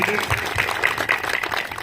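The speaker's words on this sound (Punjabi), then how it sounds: "ਪ੍ਰਭੂ ਦੇ ਨਾਮ ਦੀ ਤਾੜੀ ਮਾਰ ਦਿਓ" Clapping by a church congregation in the Lord's name, a brief burst of scattered applause from a gathered crowd under a loud, reverberant hall tone.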